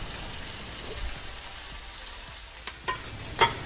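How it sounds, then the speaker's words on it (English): Ginger hits hot oil in a pan while cooking Dungeness crab, giving a steady close sizzle with a few sharp pops and spatters near the end. "Add 3 tablespoons of oil when the pan is hot. Wait 20 seconds, then add ginger."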